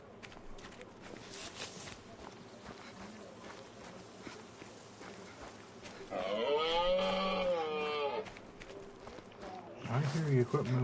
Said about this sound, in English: I hear you, quit mooing at me.